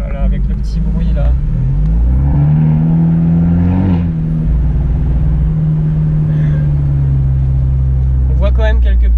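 A Brabus-tuned Mercedes G-Class rolls past on a street near Monaco with a loud, deep engine rumble that builds and holds, close by, while someone talks excitedly over it.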